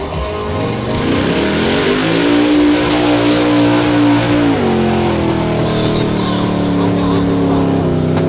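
Modified-class cars race through mud at a New Mexico mud-racing event in Taos, engines revving loudly and continuously, one engine's pitch climbing, holding, then dropping as it shifts, with crowd and outdoor noise beneath.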